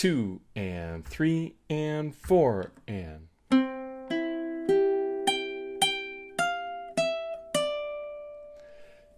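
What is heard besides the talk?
ukulele playing the first measure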